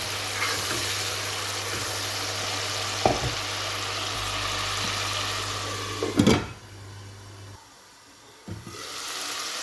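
Spice paste fries in oil for a fish curry with a steady sizzle. A few sharp stirring clatters break in, then the sizzle quiets and a short knock follows near the end, with no talking.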